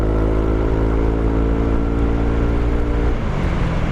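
A Yamaha Aerox 155 scooter engine hums loudly and steadily while riding. The tone drops as the throttle closes near the end, and no one speaks.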